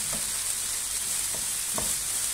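Cincile mushrooms sautéing in a pan give a steady soft sizzle, with a few quiet stirring scrapes, close and moderately quiet, no voices.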